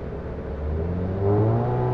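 A car engine with a stage 2 tune and aftermarket downpipe revs up at half throttle in normal drive mode, a steady mid-pitched hum rising in tone and loudness over a couple of seconds.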